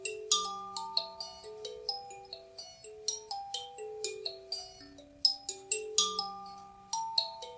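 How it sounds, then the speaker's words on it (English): A kalimba, metal bands of different lengths on a block plucked with the thumbs, plays a gentle melody of bright, bell-like plucked notes with ringing sustain, quiet and close, with no talk. "I love this instrument. It's called a kalimba."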